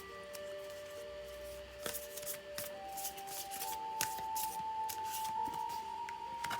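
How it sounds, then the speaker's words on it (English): Tarot cards are shuffled repeatedly with soft riffling and sliding flicks, quiet and close, with no voices. "Give me another shuffle."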